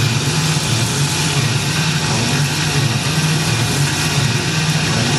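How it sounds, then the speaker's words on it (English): A Tormach PCNC 1100 CNC mill cuts a hole into a fixture plate beside a T-slot with coolant flowing, giving a steady, loud, continuous machining hum with a low droning tone and no pauses. "You can see that it's milling the hole right on the T-slot there."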